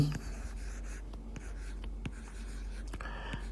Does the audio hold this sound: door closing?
no